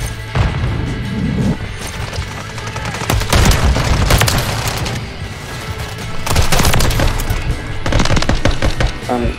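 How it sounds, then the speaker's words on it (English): Call of Duty multiplayer gunfire: loud bursts of rapid automatic shots in several clusters with booms and impacts between them, close and intense, while a voice talks over the action. "Taking effective fire!"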